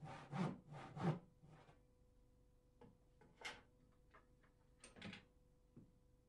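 Hand sawing through wooden floor joists to make room for radiator pipes: a few rasping back-and-forth strokes, then scattered quieter scrapes and knocks, faint and without talk.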